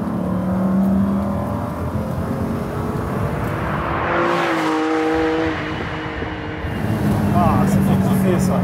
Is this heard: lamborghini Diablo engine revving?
yes